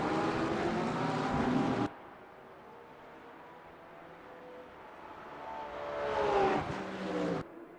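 Multi-class race cars, including LMP2 prototypes and a BMW, run at Circuit of the Americas in Le Mans Ultimate. A loud engine drone with stacked harmonics cuts off abruptly, idles low, then swells again as cars bunch together down the straight.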